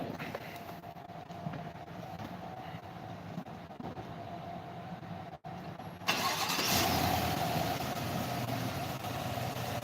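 A GMC Denali truck's engine cranks and catches a little past midway, jumping from a quiet idle hum to a louder, steady running drone close by.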